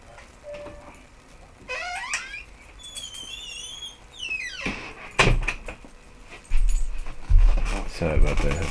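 Keys jangle and a house door opens to let a dog in, with rattling handling sounds, squeaky rising whines or chirps, then louder thuds and knocks of the door as it swings and shuts nearby.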